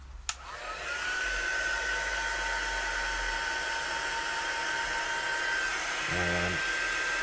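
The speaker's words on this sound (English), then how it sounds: "going to grab my heat tool" A heat tool for paper crafting blows hot air in a steady, loud whirring hiss that runs nearly the whole time after a brief click at the start, with a faint shift in tone near the end.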